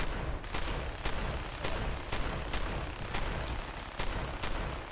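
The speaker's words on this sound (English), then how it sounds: "See, gunfire comes from somewhere." Gunfire in the Fallout 4 video game during a settlement raid pops in repeated sharp bursts at an irregular rhythm, somewhat distant and fairly faint over a constant background wash.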